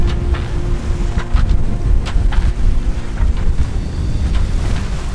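Strong wind buffeting a sailboat offshore at sea with a reefed mainsail and partial jib, a loud continuous roaring gust noise with rumbling low end and occasional faint knocks, no voices.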